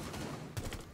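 Gunfire from the Rainbow Six Siege video game: a short burst of several sharp shots near the middle of a brief moment, over a steady game background.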